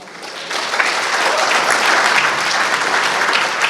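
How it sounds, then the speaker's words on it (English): Dense applause from a dinner gala crowd at a Muslim Welfare Centre Canada annual charity dinner, honouring volunteers; steady, sustained clapping that swells slightly after the start and holds evenly, close and loud. "Big round of applause for volunteers, guys"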